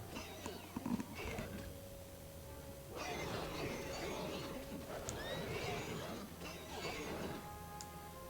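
A horse neighs in the World of Warcraft video game, with whinnying bursts and faint clip-clop rising over game music and ambient effects, heard alone without talk.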